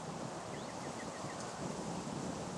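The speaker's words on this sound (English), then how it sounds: "because it's too windy" Steady wind blows outdoors beside a lake, a continuous broadband rush at even loudness with no voices, faint and unbroken throughout.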